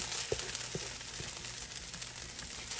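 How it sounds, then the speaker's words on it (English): Shredded beef for pabellón criollo frying in a pan, a soft continuous sizzle with a few light stirring knocks near the start, close and fairly quiet, with no talking. "I'm going to add our shredded beef."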